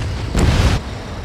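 Missile explosion bringing down an enemy bomber in the Ace Combat 7 combat flight game: one loud, close boom that swells briefly and fades.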